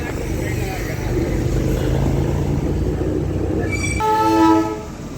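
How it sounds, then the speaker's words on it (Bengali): A train rumbles past nearby in a hilly area, a steady loud roll of wagons followed by a blaring horn near the end, with voices over it. "এই ট্রেনটা এখনই ক্রস করছে"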